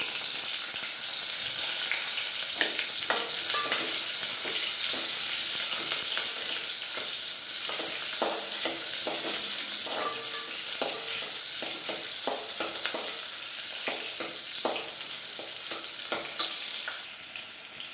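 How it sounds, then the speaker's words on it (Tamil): Small onions (shallots) sauté in a pan for Chettinad fish curry, a steady close sizzle broken by frequent scraping clicks of stirring throughout, with no voices. "வெங்காயம் நல்லா வதங்கணுங்க அப்போ தான் மீன் குழம்பு நல்லாயிருக்கும்"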